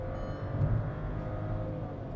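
Skoda Kushaq engine running steadily while driving at around 100, a low continuous hum with road noise and no talk.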